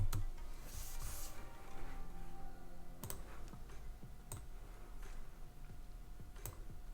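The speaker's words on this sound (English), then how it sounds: "I'm going to select Shift on the keyboard and the squiggle key" Keys pressed on a computer keyboard while designing a craft project in Cricut software: a few faint, sparse clicks spread over several seconds in a quiet room, with no one speaking.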